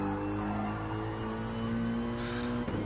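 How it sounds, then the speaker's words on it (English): A DTM turbo race car engine in a racing video game holds a steady droning note from the cockpit view, fairly faint and continuous, with a slight shift near the end. "Turn up the volume and let that engine roar."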